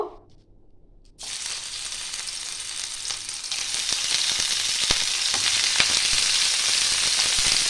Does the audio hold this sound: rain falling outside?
no